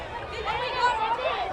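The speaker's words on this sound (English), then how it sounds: "Big crowd." Busy crowd chatter rises from a large gathering at a town apple festival's opening parade, a steady murmur of many distant voices with no single speaker standing out.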